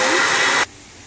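A mixer grinder whirring loudly as it grinds spices into powder, a steady high roar that cuts off abruptly after about half a second, leaving quiet room tone.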